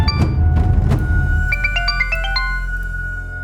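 A phone ringing on a call, with a repeating electronic ringtone melody of quick stepped tones heard clearly after a few soft thuds at the start, with no speech.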